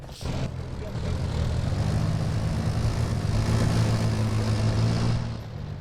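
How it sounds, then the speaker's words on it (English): A military helicopter flies in a PvP video game match, a steady droning rotor and engine roar. It holds loud and continuous for several seconds, then fades slightly at the end, with no voices. "You have the chopper out here providing long-range support."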